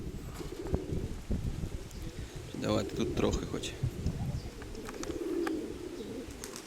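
Pigeons coo and call close by at a pigeon loft, with soft chirps mixed in. Someone talks over the birds throughout.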